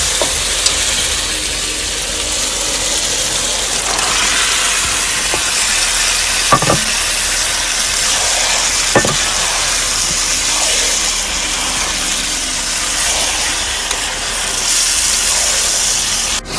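Marinated meat frying in a spiced masala, a steady loud sizzle and hiss throughout with occasional sharp pops and stirring scrapes, no talk.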